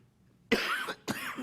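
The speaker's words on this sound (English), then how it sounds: "Pardon my coughing, folks, hang on." Two harsh coughs close to the microphone during a school board presentation, the first longer and rougher, the second following after a short pause, with near silence before them.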